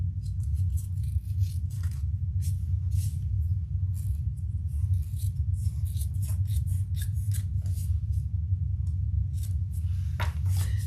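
Scissors trimming excess material on a small crossbody bag, many quick close snips in an irregular run over a low steady hum.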